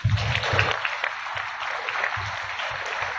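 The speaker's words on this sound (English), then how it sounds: "Can you give each other a big round of applause?" Applause from the audience at a press conference for a Dole and Servicio Filipino partnership, a steady wash of many hands clapping at close range that holds for about three seconds.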